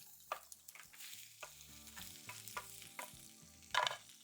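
Onions and carrots sautéing in cooking oil in a pan, a soft close sizzle with scraping stirs and a few louder tosses, no talk.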